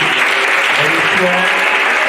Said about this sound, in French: Avec des acclamations bien nourries.